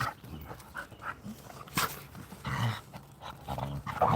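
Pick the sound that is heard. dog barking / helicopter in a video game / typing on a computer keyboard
dog barking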